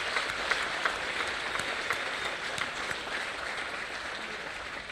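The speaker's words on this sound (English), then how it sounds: "But I'd actually to put a big round of applause for our sponsors." Audience at an all-Ireland and all-nations shearing and woolhandling championship applauds sponsors, a steady, dense clapping that carries evenly through the whole stretch with no talk over it.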